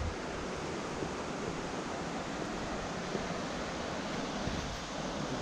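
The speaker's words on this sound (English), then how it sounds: "Goodbye to that running water sound." Running water of a stream on a countryside walk near Beddgelert, a soft continuous rushing wash that holds steady throughout, faint and unbroken, with no voices.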